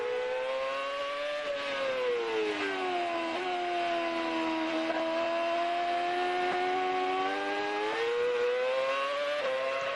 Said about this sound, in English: Just hearing the sound of these engines, this engine reverberating off the trees.